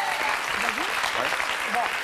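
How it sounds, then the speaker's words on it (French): An audience claps steadily throughout a French talk show segment on divorce, a continuous dense patter with voices rising faintly beneath the applause. "je pense qu'on peut applaudir Josette parce qu'elle a raison."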